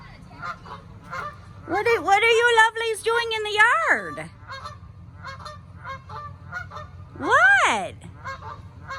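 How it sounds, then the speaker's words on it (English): Geese in a backyard honk loudly and nearby in two bursts, a long stretch of repeated honks followed by a shorter one, while a person talks to them in between. "What in the world are geese doing in my yard?"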